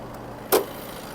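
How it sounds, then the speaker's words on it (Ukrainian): A 2020 Volkswagen T6.1 long-wheelbase van with DSG idles under its open hood, giving a steady low hum with one brief, louder broadband burst partway through. "Моторчик все в ідеалі."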